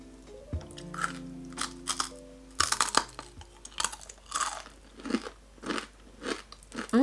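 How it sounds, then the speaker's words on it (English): Homemade black sesame senbei rice crackers being bitten and chewed, giving a series of close, loud crisp crunches that repeat in a steady chewing rhythm with no talking. "They're crunchy."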